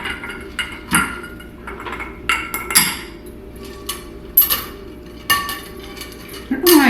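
Big ice cubes clink and knock into a glass for a Oaxaca Old Fashioned, a run of sharp, close hard knocks and rattles at an uneven pace, with faint kitchen background between them.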